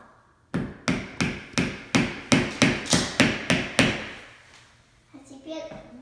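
A small nail driven by hammer in a kids' build-and-grow project: about ten crisp, evenly spaced metallic knocks in a steady rhythm, close and loud, followed by a voice speaking briefly at the end.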